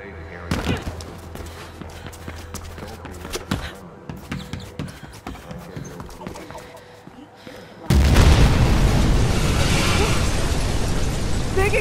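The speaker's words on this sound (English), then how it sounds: "Big explosion over here." A big explosion in the video game Mirror's Edge Catalyst bursts in suddenly partway through as a loud sustained roar, following sparse game sounds and a voice talking.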